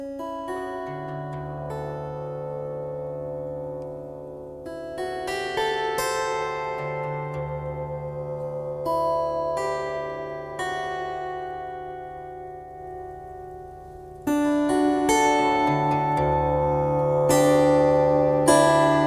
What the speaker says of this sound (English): so the first chain with the plate reverb only